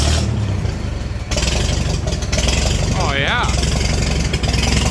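An old Farmall H tractor engine chugs loudly at close range as the throttle is nudged up a touch, a steady low rumble with a brief spoken exclamation over it.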